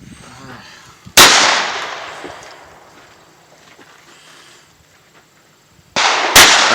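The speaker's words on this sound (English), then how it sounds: "He's getting ready to shoot." Two loud rifle shots crack out several seconds apart at an outdoor shooting range during sighting in, each sharp blast trailing off in a long fading echo.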